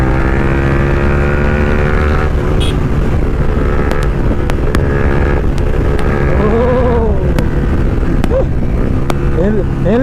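A modified Yamaha R15 v2 motorcycle rides along a road, its engine droning steadily with harmonic whine and shifting pitch, close and loud throughout, with people talking over it.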